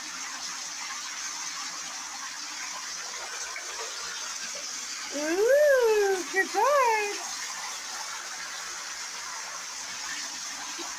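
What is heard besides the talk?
shower water running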